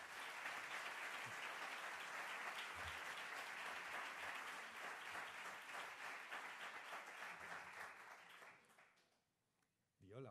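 Sustained audience applause for an author at a cultural lecture, a dense steady roar of clapping that holds for several seconds, then fades out near the end with a voice beginning to speak.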